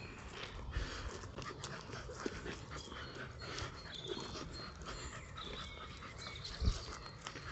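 Dogs out on a walk pant in a steady, rapid rhythm close by, with occasional soft whimpers and a few dull thumps, and no talking.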